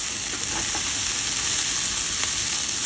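Long beans fry in a pan while being stirred constantly, giving a loud, steady, close sizzle with occasional soft scraping.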